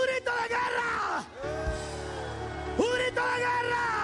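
A church congregation at a Spanish-language worship service shouts a loud war cry together, sustained voices rising and falling in long bursts of yelling over a steady background hum.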